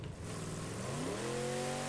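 Vehicle driving in State of Decay 2, an engine steadily revving up with rising harmonic whine, continuous and fairly close.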